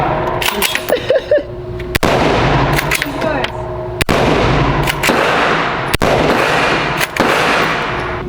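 Machine gun fire outdoors, with a short burst first, then four loud, sharp reports at roughly two-second intervals, each trailing into a long rumbling echo, and brief voices early on.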